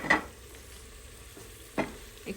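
Goat meat curry stirs in a frying pan, with three scraping strokes of the spoon, one at the start and two near the end, over a soft, continuous sizzle close by.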